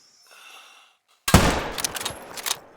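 A rifle shot fired at a kangaroo in theHunter: Call of the Wild on the Emerald Coast: one sudden loud close blast after near silence, trailing into a rumbling echo with scattered crackles.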